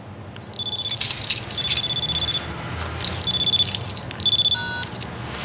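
A telephone ringing in a French-language TV comedy scene, its electronic ringtone repeating in several loud bursts with short gaps between them, close by and unaccompanied by talk.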